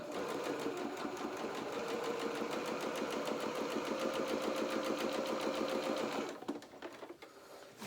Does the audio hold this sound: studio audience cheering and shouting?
no